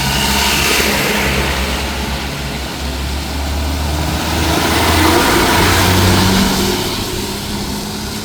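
Vehicles pass slowly one at a time along a single-lane road left after a landslide in Kandy, giving a steady, loud engine drone with low rumbling that swells and fades as each one goes by.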